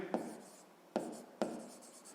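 Pen strokes on notebook paper, written during a sixth-grade maths exercise: three quiet, separate scratching bursts at a steady pace, close by and soft, with no talking.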